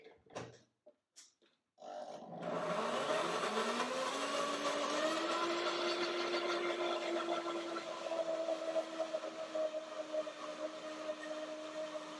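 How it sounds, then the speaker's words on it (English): A blender mixing lemony banana yogurt starts after a couple of short knocks, then whirs steadily and loudly, its motor pitch rising as it spins up and then holding a continuous drone. "So blender dance for Lemony banana yogurt."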